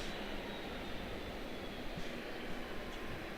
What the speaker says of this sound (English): Another Delta 717 making her way down here in front of me